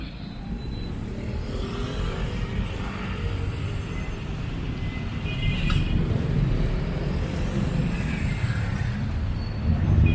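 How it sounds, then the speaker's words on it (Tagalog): Clogged road traffic after an accident in the Philippines hums steadily, engines idling and rolling nearby as a low continuous rumble that swells slightly midway, with no talking. "So you can see ang traffic atong the traffic is now clogged up."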